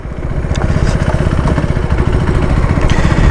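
A new 2025 KTM 390 Adventure X motorcycle rides slowly, its single-cylinder engine throbbing in a steady, loud, close-up rhythmic putter with no talk.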